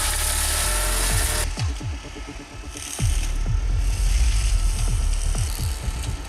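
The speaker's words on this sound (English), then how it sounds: "the machine provides clean and even cutting." Heavy cutting machine with a 3-meter-wide blade spinning at up to 1,500 RPM, a loud hiss at first giving way to a run of repeated sharp cutting impacts over a rumbling engine.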